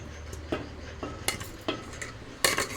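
Cooked dal being stirred in a pot at home: a spoon scrapes and clinks against the metal at irregular intervals, soft and close, with no talking.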